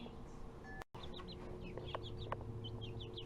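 Chickens clucking inside a coop, a steady run of short cackles and chirps at moderate distance over a low, constant background hum, with a brief dropout near the start.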